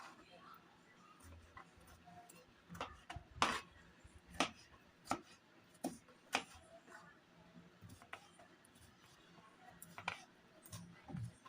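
Ash gourd is cut into pieces on a board in a home kitchen, a series of separate knife thuds at an uneven pace, close and fairly quiet, with soft speech-like murmur in the background.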